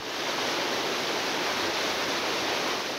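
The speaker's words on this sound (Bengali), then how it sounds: "বাঁধ ভেঙে প্রবল গতিতে ছুটছে পানি" Floodwater roars through a broken embankment during heavy rain and river flooding in Bangladesh, a loud, steady, unbroken rush of churning water with no pauses.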